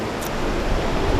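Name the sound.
ocean waves breaking on a Bali shore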